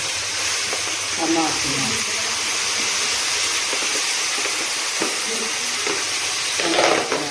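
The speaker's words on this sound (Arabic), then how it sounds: "بنحط اهي البصله احمرت اهي جامد" Onion fries with a steady broad sizzle in a pan, stirred now and then with soft scraping bursts, under someone talking.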